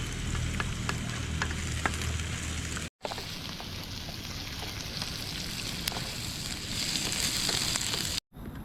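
Onions sizzle steadily in hot oil in a pan at an outdoor campsite cooking setup, a dense continuous frying hiss with small pops, up close and fairly loud, broken by two brief silent cuts.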